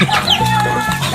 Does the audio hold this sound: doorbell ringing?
no